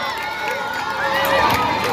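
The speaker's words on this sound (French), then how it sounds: "Du bruit, des cris de joie." School academic day crowd at Lycée Moderne 3 d'Agboville cheering and shouting with joy, a dense wash of many voices close around.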